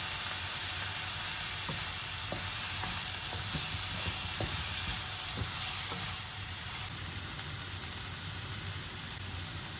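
Onions and curry leaves sautéing in a pan for a prawn fry, a continuous broad sizzle with occasional light clicks of a spatula against the pan, steady and moderately loud throughout.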